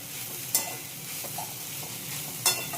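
Cumin seeds fry in a hot oil tempering for raw mango rice rava pulihora, a soft steady sizzle with two sharp crackling bursts and light stirring scrapes, close and fairly quiet.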